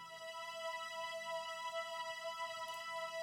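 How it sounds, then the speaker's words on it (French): Omnisphere PR12 Nightbeam synth preset with chorus added, for a trap beat: a steady, sustained bright chord with stacked shimmering harmonics, held evenly throughout with no talking. "C'est le preset PR12 Nightbeam qui, à l'état original, ressemble à ça."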